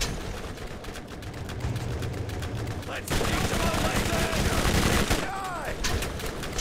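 A Bone Shredder Tediore submachine gun in the Borderlands video game fires long, fast automatic bursts, a loud, tightly packed rattle of shots nearly throughout, with a brief electronic chirp near the end.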